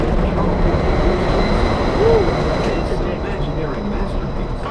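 Ride aboard the Disneyland monorail, a loud steady rumble of the train with rattling and a brief faint squeal, and voices talking over it close by.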